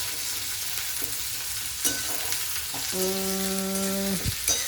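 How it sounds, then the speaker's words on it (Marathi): Onions frying in a pan for chicken biryani give a steady, loud sizzle, with a few faint clinks and a sustained tonal hum partway through. "नेहाने पहिले कांदा परतून घेतलेला आहे"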